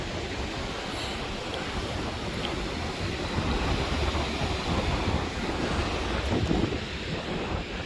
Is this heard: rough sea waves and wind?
yes